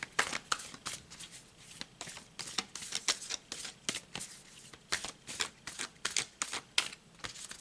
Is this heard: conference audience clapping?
no